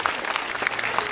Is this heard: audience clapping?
yes